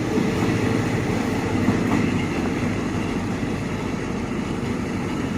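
A train hauled by a Hitachi locomotive passes at Ban Khua Bua with a steady, loud rumble and rail clatter that holds throughout.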